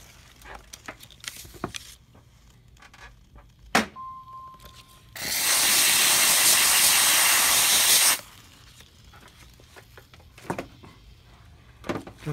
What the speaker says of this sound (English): Before I put it in, I'll just give it a little bit of steaming.